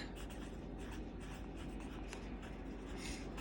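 Pen or pencil writing by hand on paper, steady continuous scratching strokes close by, quiet and unbroken, with no talking.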